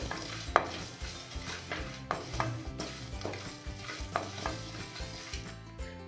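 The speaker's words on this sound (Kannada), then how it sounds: "ಇದನ್ನೆಲ್ಲ ಹಾಕಿ ಡ್ರೈ ರೋಸ್ಟ್ ಮಾಡ್ಕೋಬೇಕು." Spices and poppy seeds dry roasting in a pan for a spicy potato curry, with a spoon scraping and stirring in steady repeated strokes and a few sharp clinks, close and moderately loud, no talking.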